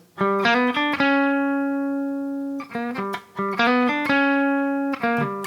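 An electric guitar phrase of quick picked notes resolving into a long ringing held note, then the lick repeats with a slight pitch bend near the end.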